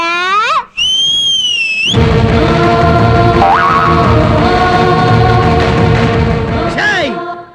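A person whistles loudly on a stage comedy show, sharp rising and bending tones in short bursts, with a loud sustained hum and background noise between them.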